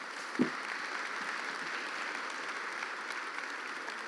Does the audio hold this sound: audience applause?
yes